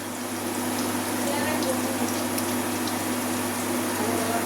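Ginger-garlic paste sizzling in a pan with shrimp for a Bengali chingri bhuna: a steady, continuous hissing fry with faint crackles, close and even throughout, over a low constant hum.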